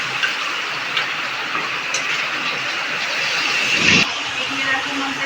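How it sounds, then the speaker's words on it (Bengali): Marinated catla fish fries in a pan with a steady, loud sizzling hiss that holds throughout, with a sharp clatter near the end. "কাতলা মাছ ভাজছে।"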